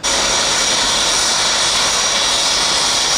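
A Gripen fighter jet roars past at an air show, a loud steady broadband engine rush that stays constant and close throughout, with no voices over it.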